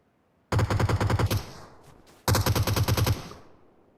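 Automatic gunfire in the battle-royale game PUBG: two rapid bursts of about ten shots each, loud and close, separated by a short pause with fading echo.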